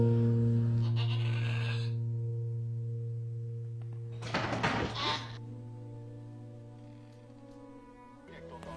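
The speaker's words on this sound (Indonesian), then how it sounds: "ayah P lalu menyuruh P untuk menyaksikan saat Richard Parker menerkam seekor kambing hidup sebagai makanannya." In a film scene from Life of Pi, a live goat bleats as the tiger Richard Parker pounces on it, drawn-out cries over sustained tones, broken by a sudden noisy scuffle midway.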